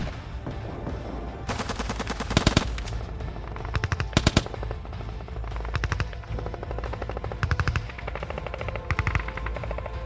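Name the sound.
gunfire at a building during combat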